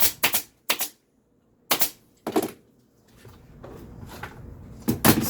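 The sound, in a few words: stapling upholstery onto a boxed pad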